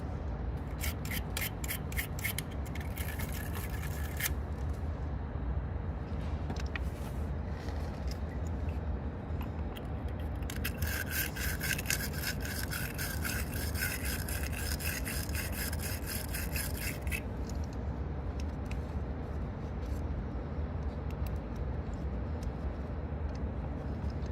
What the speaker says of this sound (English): Come in with your wire brush. Get those connections nice and clean.